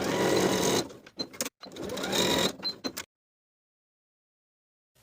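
A sewing machine stitches a seam on lined cigarette pants, running in a fast steady whir for about a second, pausing briefly, then buzzing again for over a second before stopping into silence.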